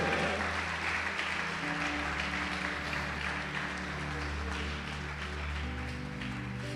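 Church congregation applauding during a sermon, a steady wash of clapping mixed with a sustained organ or keyboard drone underneath, moderately distant and even throughout.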